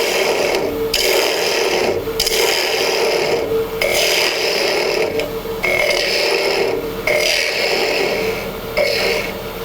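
A wood lathe spins a blank while a turning tool scrapes and cuts into it, a continuous loud rasping with repeated brief pauses as the tool is lifted and reapplied.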